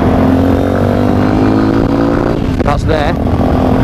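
A Sinnis Terrain motorcycle ridden during its running-in period with heated grips, hand guards and a new exhaust fitted, its engine droning loud and steady with a brief rev swell near the end while a rider speaks briefly.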